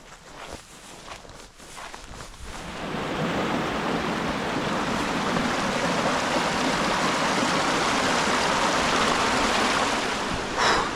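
River water rushing steadily at a hiking crossing in the Mourne Mountains, a dense, close, continuous wash that swells after a few seconds of footsteps and movement, with no talking.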